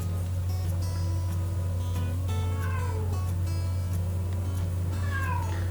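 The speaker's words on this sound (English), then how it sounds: "Sorry you can hear my cat in the background." A cat meows insistently several times, rising and falling cries under a steady low hum, fairly close and loud.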